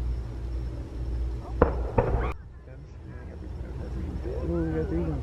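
Fireworks testing at Disney's Magic Kingdom, heard from a distance at a resort: a couple of sharp, fairly loud bursts cracking over steady background noise, followed by a quieter stretch and then people talking.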